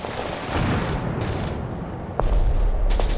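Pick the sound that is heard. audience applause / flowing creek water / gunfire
gunfire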